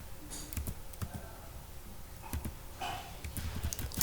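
Java code is typed on a computer keyboard: scattered, quiet key clicks in an uneven rhythm with brief pauses, close by and alone.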